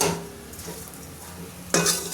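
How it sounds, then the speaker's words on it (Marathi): A spoon stirring poha in a pan, scraping and clinking against the metal in short bursts with a light sizzle underneath, one sharper louder scrape near the end, no voices. "हे पोहे ना चांगले वरखाली हलवून घ्यायचे"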